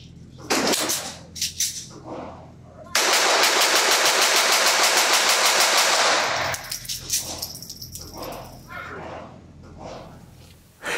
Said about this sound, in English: who just doesn't want to dump a bunch of 22 rounds down range as fast as you